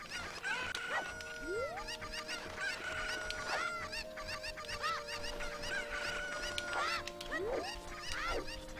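Zelda chickens (cuccos) in the Kakariko village area, squawking and clucking repeatedly in overlapping, rising calls over faint game background noise.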